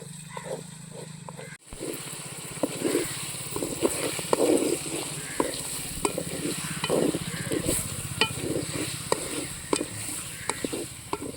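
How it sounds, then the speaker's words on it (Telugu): Chicken pieces coated in masala sizzle and crackle in hot oil in a home kitchen, with intermittent stirring scrapes and a clatter near the start; a steady, close, moderately quiet fry. "చికెన్ని బాగా నూనెలో ఇలాగే ఉడకబెడతాను."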